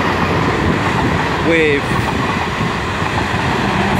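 A Weymouth to London Waterloo passenger train, two coupled units, runs past the platform at Eastleigh station: a loud, steady rumble of wheels and rail noise close by, with a brief high squeal partway through and a voice speaking briefly over it.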